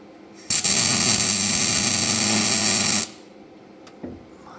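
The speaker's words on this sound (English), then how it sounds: "gonna offer it up into place and then put a weld on it." Welding a bent bracket into place on a Commer being readied for drag racing: a loud, steady crackling hiss for about two and a half seconds, then a brief tap after a pause.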